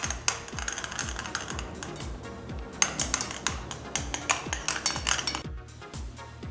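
Food coloring being worked into butter slime makes quick, rhythmic squelching, clicking and sticky popping sounds, close up, repeating steadily for several seconds with no one talking.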